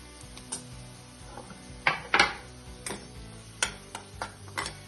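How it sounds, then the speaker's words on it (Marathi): Spice masala for a drumstick curry is stirred in a pan, producing scattered clicks and scrapes of a utensil against the metal, irregular and close, with a louder cluster of knocks midway and no talk. "आम्ही सर्व मसाले यामध्ये टाकून घेतलेले आणि हे छान परतून घेतोय"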